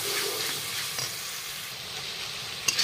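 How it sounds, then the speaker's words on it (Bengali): Ginger, garlic, green chili and cumin paste sautéing in a pan for ghugni, a steady close sizzle with light stirring scrapes and a sharp clink near the end. "অল্প মিট মশলা পাউডার দিয়ে আবার একটু কষানো"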